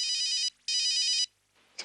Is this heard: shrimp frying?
no